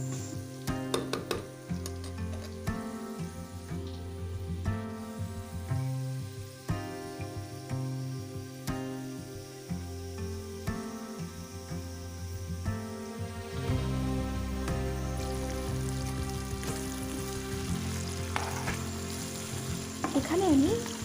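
Onions fry in oil in a pan, a continuous crackling sizzle with scattered stirring scrapes, growing denser and louder in the second half, heard up close with a tonal hum underneath and no talk.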